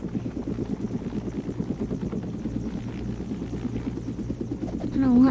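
Rotor thump and engine whine of a helicopter in a video game run steadily and close, ending in a brief rising electronic chirp.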